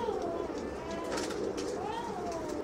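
A high-performance flying pigeon coos softly in a loft, with repeated gentle warbling calls and other birds calling around it. The sound is steady and fairly close, and no one speaks.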